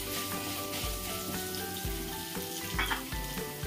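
Mustard seeds with dried red and green chillies fry in hot oil for tempering, giving a dense, steady crackling sizzle with small pops, close and loud with no talk.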